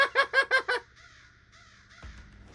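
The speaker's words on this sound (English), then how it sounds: "All I heard was just a bunch of crows." Five loud, rhythmic caws from a crow in The Stanley Parable video game sound in quick succession up close, then give way to quiet ambience and a low thud.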